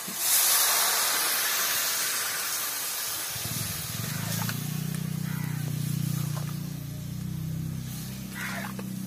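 Water poured into a hot pan of half-ripe jackfruit curry: a loud, steady steaming hiss fills the clip, with a lower bubbling rumble building after the first few seconds as the liquid heats.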